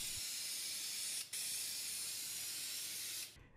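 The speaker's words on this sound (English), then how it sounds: "I sprayed two coats of black spray paint." A steady, close hiss of black spray paint from an aerosol can onto a wooden piece, with a brief break before continuing, then cutting off.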